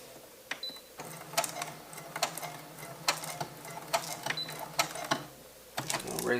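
An embroidery machine running at reduced speed stitches in a steady, rhythmic series of mechanical clacks, roughly two per second, close and moderately loud.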